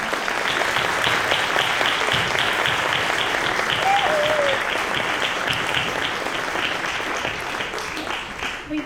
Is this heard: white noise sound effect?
no